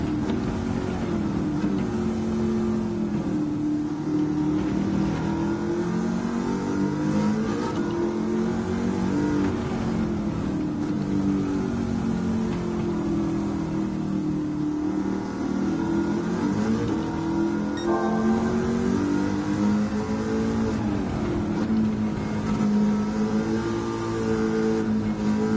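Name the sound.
Ford Mustang Mach 1 engine with supercharger revving, Gran Turismo 7 video game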